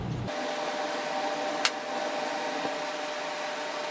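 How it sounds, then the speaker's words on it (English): Electrical parts cleaner hissing from an aerosol can onto a Bosch starter armature for a BMW E53 X5, a steady close spray with a couple of sharp clicks. "Now I'm gonna clean the armature with electrical parts cleaner."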